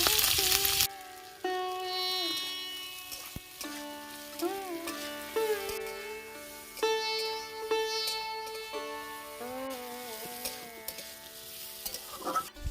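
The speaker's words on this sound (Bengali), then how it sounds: "আলু, ফুলকপি আর গাজরগুলো একটু ভেজে নিয়েছি" Potatoes, cauliflower and carrots fry and sizzle in a pan while being stirred, with background music playing over the cooking sounds.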